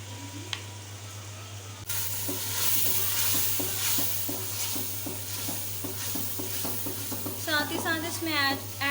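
Stirring and frying of egg fried rice masala with soy sauce and vegetables in a pot, a steady sizzle with repeated scraping stir strokes, a low hum beneath, and a brief higher squeak near the end.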